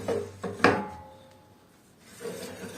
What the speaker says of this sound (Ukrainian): коли ми шуфлятку витягуємо, бджоли доступу не мають